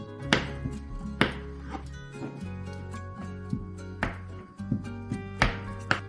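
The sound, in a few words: knife cutting 400 grams of soap base into small squares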